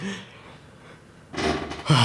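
Heavy breathing in quick, audible breaths, close to the mic, growing louder toward the end.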